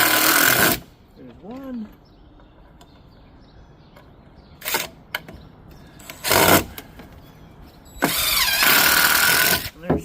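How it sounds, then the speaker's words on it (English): A screw gun drives screws into wood in repeated bursts, each a loud whirring run lasting a second or so, separated by quiet gaps while someone speaks briefly between them. "That just makes it easier to put these in with the screw gun. And then we just screw them in."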